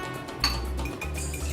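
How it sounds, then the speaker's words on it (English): A fork clinking against a bowl while beating eggs, a few light metallic taps and a brief clatter, close and fairly quiet. "we need a fork for doing the eggs"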